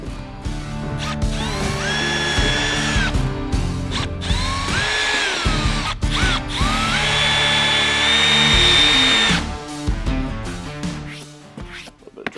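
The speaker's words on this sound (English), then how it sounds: "I'm going to drill a 1/4-inch hole in each of these locations" A power drill boring 1/4-inch holes for a dash mount bracket in a 2023 Super Duty truck, loud whining bursts that rise in pitch as the motor spins up, with short pauses between runs and faint ratcheting clicks.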